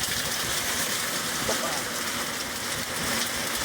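During a summer cloudburst, hailstones drum steadily on nearby surfaces, making a close, unbroken hiss-and-patter wash that holds at an even loudness throughout.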